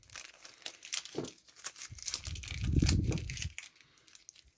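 Plastic packaging for a metal-structure Millennium Falcon model kit crinkles and tears close up in several bursts, with a louder sustained rustle in the middle.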